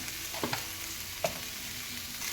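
Fennel and cumin seeds frying in oil for dhaba-style paneer, a short steady sizzle with a couple of brief pops and stirring taps.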